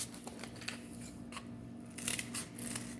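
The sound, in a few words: scissors cutting folded cardboard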